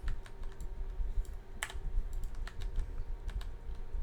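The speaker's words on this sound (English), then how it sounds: "That's why I'm hearing my keyboard right at the start of that." Close-miked computer keyboard typing, with a steady run of quick clicky keystrokes at an uneven rhythm, one sharper stroke standing out, alone and fairly quiet.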